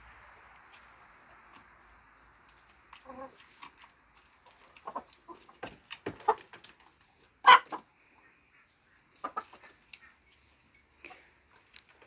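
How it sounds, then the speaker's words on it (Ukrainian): A rooster clucks and crows in scattered bursts, with one loud squawk standing out, against a quiet outdoor background. "Так, півень безпокійний сьогодні"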